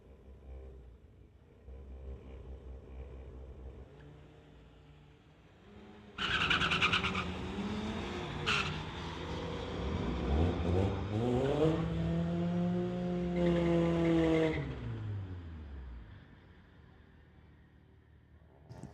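A 2018 Volkswagen Golf R and a 2022 Subaru at a street-legal drag night, heard as a quiet idle before a sudden loud launch, engines revving and rising through gear changes, then fading away into the distance.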